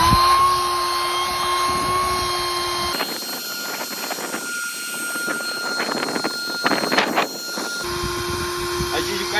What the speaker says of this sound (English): As you guys can see with the electric pump, this takes a minute.